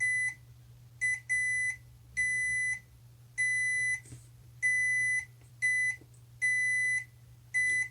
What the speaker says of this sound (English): So we have the multimeter on continuity, and let's check these connections.